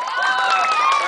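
A crowd at a contest held at a water park cheers and yells in a brief, steady, loud burst for a contestant, high shouting voices overlapping throughout.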